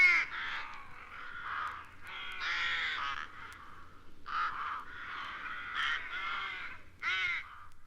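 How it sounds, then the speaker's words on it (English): Harsh, repeated caws of an English rook sound in a steady series of rasping calls, some overlapping and close, with brief pauses between them and no other sounds. "the English rook"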